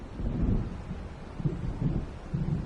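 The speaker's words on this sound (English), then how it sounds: "It seems there's a storm coming." Low, rolling thunder rumbles through a stormy game scene in Alan Wake, steady and fairly loud, with swells of deeper rumble recurring every second or so and no voices.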